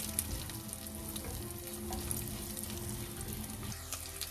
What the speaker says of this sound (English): We'll add cumin seeds. Add 1 biryani leaf. Green chilies. Fry this a little bit.